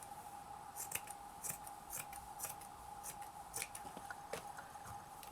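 Scissors snip through paper for a shabby chic craft page, a steady series of crisp, close cutting clicks at a regular rhythm over a faint constant hum.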